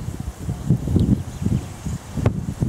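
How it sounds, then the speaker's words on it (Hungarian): Strong wind buffets a cyclist on an Alpine mountain pass near the Bernina valley, a continuous low rumbling gust noise on the microphone with rustling bursts throughout. "Elég erős szél fúj"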